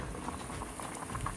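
A pot of sinigang at a hard boil on high heat, dense bubbling and popping close up, steady and fairly faint, with no voices.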